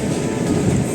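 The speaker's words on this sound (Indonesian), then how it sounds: "kereta api Argo Sindoro ini kereta api tertua kedua" An Argo passenger train runs on rails between Jakarta and Semarang, giving a steady, loud low rumble of wheels and carriage noise with no talking.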